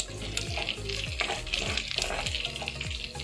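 Garlic frying in oil in a pan for Filipino pork adobo, a close, busy sizzle with scraping stirs and clatters from the utensil.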